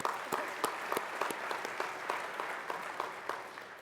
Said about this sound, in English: Let's give Ryan another round of applause.